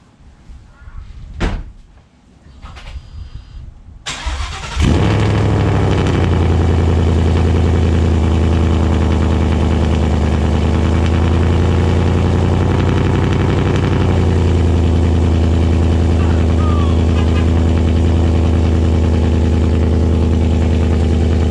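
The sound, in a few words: car engine starting with new exhaust headers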